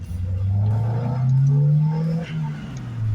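A 1986 Honda Prelude Si engine on a test drive drones steadily from inside the car, its pitch rising and falling with throttle as it pulls and eases off, fairly loud and continuous.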